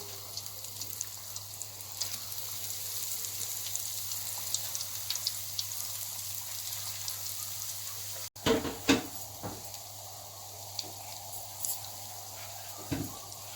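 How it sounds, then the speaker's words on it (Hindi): Egg kebabs sizzling in hot oil in a pan, a continuous close crackling hiss with scattered pops, followed by a sudden break and clattering handling sounds as more pieces go in. "ऑयल हो गया गरम, अब हम इसमें कबाब ऐड करेंगे।"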